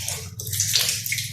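Water from a tap splashing while an arm is washed during ablution, a close, continuous uneven wash of sound over a low steady hum, no speech.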